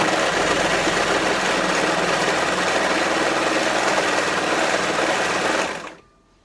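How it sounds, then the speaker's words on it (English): A Singer Heavy Duty 14HD854 overlocker sews a seam and trims the fabric edge. It gives a loud, steady, rapid mechanical whirr for about six seconds, then winds down and stops abruptly. "So let's sew the seam first, cutting the edge off."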